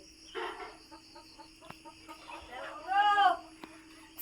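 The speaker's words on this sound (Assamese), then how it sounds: "এয়া হাঁহকেইটা হয় আমাৰ" Domestic ducks at a farmyard give short nasal calls in a quick series, near and fairly clear, with louder squawking bursts near the end while a person talks nearby.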